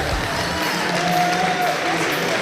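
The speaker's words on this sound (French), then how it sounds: "Je propose d'accueillir chaleureusement et d'applaudir mon adversaire qui n'a pas démérité." Audience at Geekopolis applauding an opponent, a continuous wash of clapping and crowd noise, fairly loud and even, with voices mixed in.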